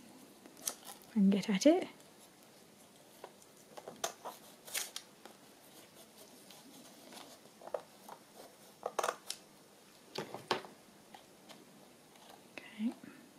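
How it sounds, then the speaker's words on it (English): Scissors trimming lace at the edge of a wedding journal, a few short close snips and rustles scattered between quiet gaps, with soft whispery speech. "I'm just going to trim off this piece of lace at the edge here"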